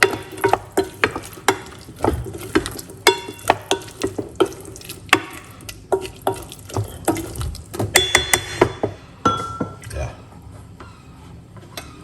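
A spoon stirs stewed kidney beans in a pot, giving repeated close scraping and knocking strokes in an uneven rhythm, with a low simmering bubble underneath throughout.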